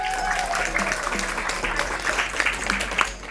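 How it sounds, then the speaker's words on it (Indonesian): Audience at a dangdut karaoke contest final claps steadily throughout, a dense continuous round of applause with faint voices beneath. "Makanya semangat ya, tepuk tangan"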